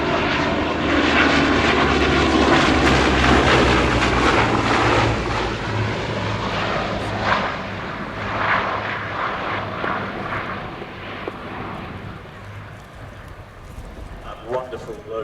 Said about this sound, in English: Wonderful low rumble of the Bristol Mercury engines, 9-cylinder radial engines up front on the Blenheim.